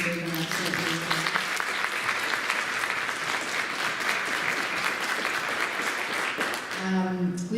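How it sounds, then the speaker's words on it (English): Warm applause from an audience at a community drug awareness night presentation, sustained and even clapping filling the room for several seconds before a voice begins to speak at the end. "I think it's important to give these guys a round of applause"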